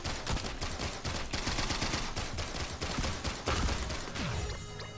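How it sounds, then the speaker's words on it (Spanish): Rapid machine gun fire in the video game Risk of Rain, a steady stream of sharp, evenly spaced shots that runs without pause for several seconds. "Vale, la ametralladora estunea."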